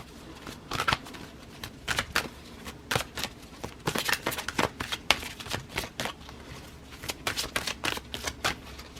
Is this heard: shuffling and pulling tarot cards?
yes